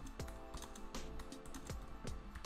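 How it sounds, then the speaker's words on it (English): Quick, light clicks come from a computer keyboard as someone types, a short irregular run of keystrokes heard up close with no talking. "let's try typing something"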